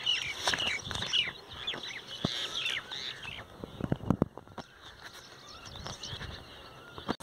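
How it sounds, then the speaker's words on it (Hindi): Soft flutters of pigeons' wings taking off in bursts, with faint bird chirps and light rustling around them, fairly close and fairly quiet. "कबूतर सब उड़ रही है"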